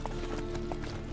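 Roach the horse gallops in The Witcher 3, with rapid hoof clip-clops in a quick rhythm over a busy game soundscape.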